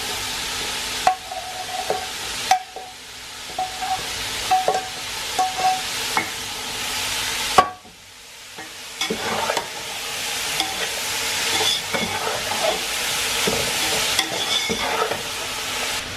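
Mixed vegetables with carrot stir-fried for Chinese biryani, restaurant-style fried rice: a steady sizzle with repeated scraping strokes of a spatula in the pan, one brief pause near the middle, no voices.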